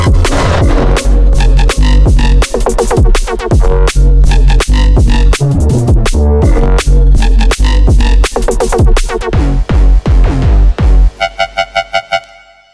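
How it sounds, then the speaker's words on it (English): Screechy wobble synth bass built in Serum for jump up drum and bass, loud and dense with rapid rhythmic wobbling over heavy low end, breaking into a choppy stuttering pattern near the end. "this screechy wobble mostly used in jump up drum and bass"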